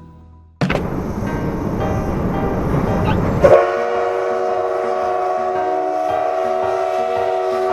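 A 70-year-old steam locomotive train in Shizuoka, Japan rumbles loudly along the tracks, then a long, steady whistle blast sounds and holds over the rolling noise of the cars.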